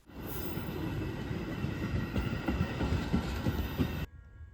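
A Metra commuter train passes on the Belvidere Subdivision, a loud steady rumble with rhythmic clickety-clack of wheels over rail joints that cuts off abruptly near the end.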